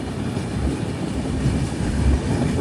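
The Mandovi Express rumbles steadily across the rail bridge over the Zuari river, a loud, even roar of wheels and carriages with no one speaking.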